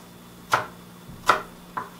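Fresh mint stems chopped with a knife on a board: three sharp, close knife strikes spaced roughly evenly over a couple of seconds, alone without talk.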